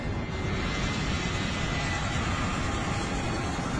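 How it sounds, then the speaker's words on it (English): A Boeing 757 airliner rolls for takeoff, its jet engines a steady, dense roar heard from inside the cabin, loud and unbroken throughout. "With just 5 minutes to spare, they're given clearance for takeoff."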